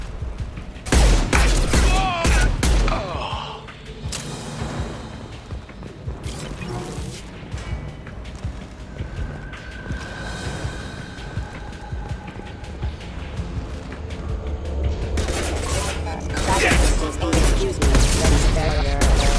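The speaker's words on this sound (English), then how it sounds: "Firing a high-impact shot!" Mass Effect 2 combat on the Citadel with an infiltrator firing a high-impact sniper shot: sharp loud gunshots and crashing impacts amid dense rattling fire and mechanical clatter, swelling again near the end, with shouted lines mixed in.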